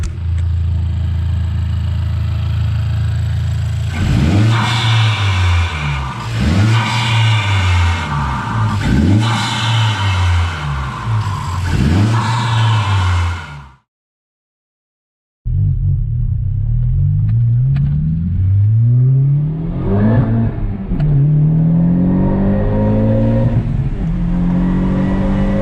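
A 2018 Honda Civic Type R fitted with an AFE Takeda cold air intake revs with the hood open, loud and close: four sharp blips in a steady rhythm, a brief gap of silence, then more revving with rising and falling pitch.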